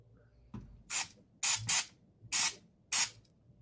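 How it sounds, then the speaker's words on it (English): Electronics cleaner sprays from an aerosol can onto a sticky keyboard key in five short, sharp hissing bursts, close and loud, separated by brief quiet gaps. "I'll have to find my electronics cleaner."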